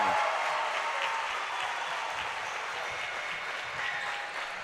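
A basketball game crowd applauds and cheers in a gym, dense steady clapping that fades slightly but continues throughout.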